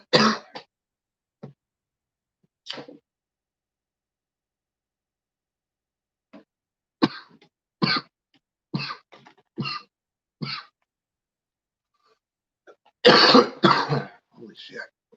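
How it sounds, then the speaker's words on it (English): Several harsh coughs and throat clearings come in bursts with quiet gaps between them, close to the listener, with a few short spoken words mixed in. "Coughing up a lung over here."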